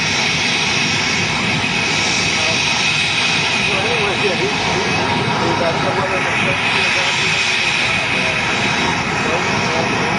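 A jet's engines roar steadily as the aircraft powers forward near the water after a crash, a loud, continuous, broadband rumble and whine filling the whole stretch with no break.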